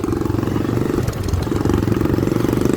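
A motorcycle engine runs in a Nepali bazaar, a bike said to need servicing and slow to start, giving a loud, close, throbbing putter with a steady pulsing rhythm and no voices.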